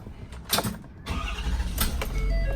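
A 2012 Terradyne Gurkha armoured truck cranks briefly, catches, and settles into a steady low idle close by, all in under three seconds.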